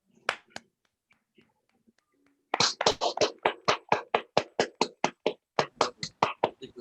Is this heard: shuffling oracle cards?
no